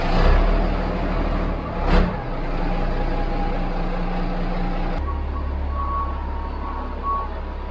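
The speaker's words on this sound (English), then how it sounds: "So we got the truck pulled outside here and we're letting it warm up a little bit." A classic fully mechanical Peterbilt 359 semi truck sits outside with its diesel engine warming up, a steady low rumble carrying on throughout with a brief swell near the start and a shift in tone partway through.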